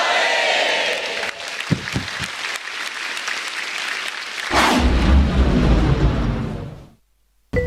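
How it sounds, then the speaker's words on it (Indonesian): A stand-up comedy audience breaks into applause with scattered claps that swell into loud, dense clapping and cheering from a packed crowd, then cut off abruptly near the end. "Berikan tepuk tangan untuk"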